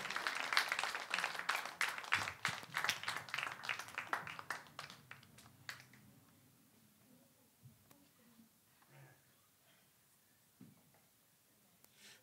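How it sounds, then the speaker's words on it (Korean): A church congregation claps during a sermon, a burst of brisk, rapid applause for about six seconds that thins out and fades into near quiet with a voice faintly present. "자, 박수하고 들어가셔요."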